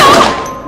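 A single loud gunshot in the video game Life Is Strange, a sharp close blast that rings out and decays quickly within a split second, with no voices over it.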